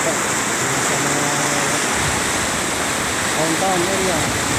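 The swollen Davao River rushes after rain in a constant, loud roar of churning water. Faint voices sit beneath the steady flow.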